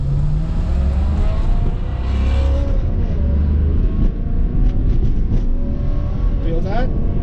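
Car with an F1 automated transmission in sport mode accelerating hard, a loud continuous engine drone with rising revs and quick gear changes, close up inside the cabin, with someone talking over it.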